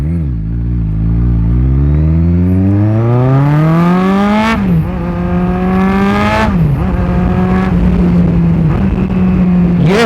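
A Kawasaki motorcycle engine revs loudly and close, its pitch climbing steadily, then settling into a steady idle-like drone broken by two quick throttle blips while rev matching.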